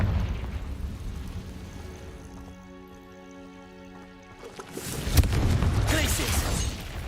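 A Confringo spell explosion in a Harry Potter-style video game: a sustained tonal hum gives way to a loud, roaring burst of crackling noise that fills the final seconds.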